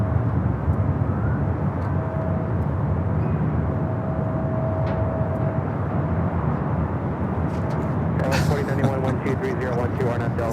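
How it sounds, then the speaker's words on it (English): A heavy Delta Airlines Boeing 767-300ER from JFK lands at LAX, its jet roar steady and loud for the whole stretch, with a brighter burst of noise near the end. "Next Bravo is a heavy Delta Airlines flight 767 on the 767-300ER, coming in from JFK."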